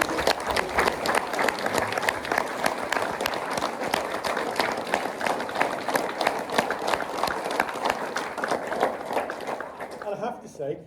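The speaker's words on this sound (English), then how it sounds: "So can we give your teachers a round of applause for all that?" At a primary school play, the audience gives the teachers a round of applause, a long, busy stretch of clapping with crowd murmur and voices mixed in, tapering off at the end.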